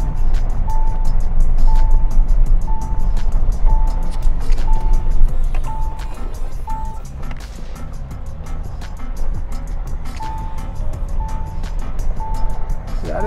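A snorkel-equipped vehicle drives along a lakeside road at about 14,000–14,500 feet near Hanle. A loud, continuous engine and road rumble runs throughout under a regularly repeating electronic beep and scattered clicks and rattles.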